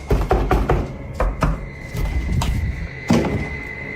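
Repeated hard knocks sound against a door or wall in a quiet room, with a cluster of loud, sharp thuds in quick succession followed by sparser, spaced-out knocks.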